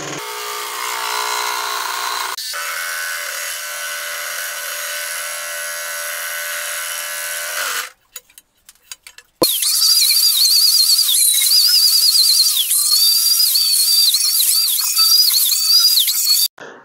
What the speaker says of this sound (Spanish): Aquí vamos a cortar con la caladora pequeña.